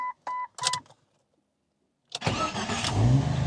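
A Jeep XJ with an exhaust manifold gasket problem and a cylinder 4 misfire code: a few short electronic chimes, a pause, then the starter cranks and the engine catches into a loud, rough idle.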